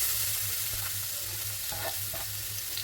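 Onion dropped into hot oil for a beef curry gives a steady close sizzle and crackle, with a low hum underneath and a few brief clinks from stirring, no voices.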